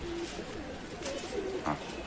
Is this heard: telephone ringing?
no